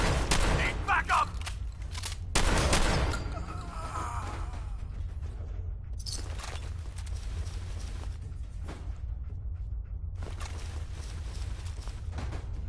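Gunfire rattles through a Fallout 4 firefight in loud, dense volleys with sustained bursts and brief pauses, heavy and close, with occasional voice sounds over the shooting.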